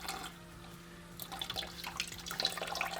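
Water trickles out of a Somatic UF-1 fluidized media reactor filter, a faint, close splashing and dripping that grows slightly busier toward the end, with a steady low hum underneath.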